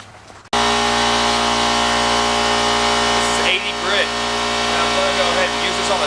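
A power sander strips old paint from a 1986 Mustang GT headlight bucket, a loud, steady motor whine that kicks in abruptly and runs continuously, with the pitch dipping briefly as it bears down on the metal.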